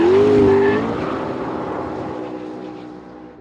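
A McLaren P1 supercar roars past loudly, its engine note dropping in pitch as it moves away and fades over a few seconds.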